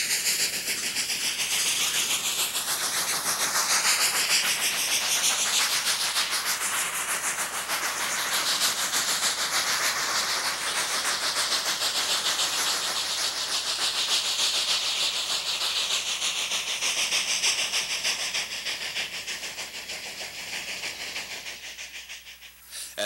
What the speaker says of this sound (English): The train now leaves the Chama River Valley as it passes through the Narrows.